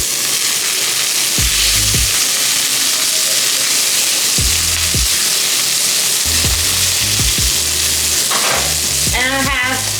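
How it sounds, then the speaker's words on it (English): Dry sea scallops searing in a very hot pan, with a loud, dense, continuous sizzle heard up close and punctuated by knocks and scrapes as they are moved around the pan, with no voices. "Now I'm gonna move the scallops to the back of the pan."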